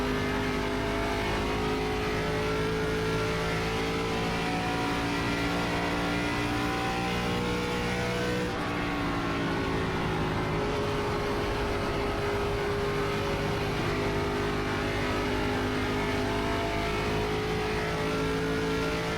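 Steady drone of an ARCA stock car engine cruising around the Kentucky oval in iRacing, a loud continuous mid-pitched hum with layered harmonics and a slight shift partway through, alone with no talk.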